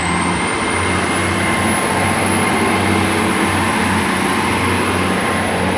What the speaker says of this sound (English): departing out is the 11:56 to Bristol Temple Meads